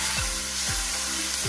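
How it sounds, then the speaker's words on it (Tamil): Sauce is stirred into fried idli in a sizzling pan, with a steady close frying hiss and three slow, evenly spaced scraping stir strokes. "இந்த சாஸ் சேர்த்துட்டு ஒரு வாட்டி மிக்ஸ் பண்ணிக்கலாம்"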